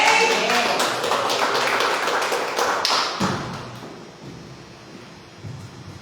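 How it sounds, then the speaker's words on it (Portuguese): A church congregation applauds in a dense, loud burst of clapping that thins and fades over several seconds, with a few voices faintly underneath. "dê um forte aplauso ao Senhor"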